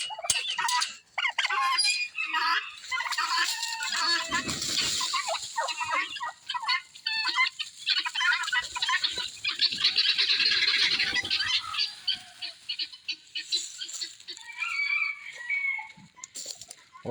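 Domestic fowl in a flock, turkeys gobbling among them, call in a dense, continuous chorus of overlapping gobbles and squawks, loud and close throughout with no talk.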